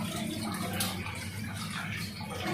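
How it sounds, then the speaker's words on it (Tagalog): Water pours steadily into the fuel tank of a vehicle, a continuous rushing splash from start to finish with a faint voice underneath. "Nilagyan tubig."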